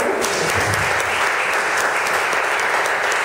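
An audience at a book event claps steadily throughout for an author, a dense, even burst of applause without voices.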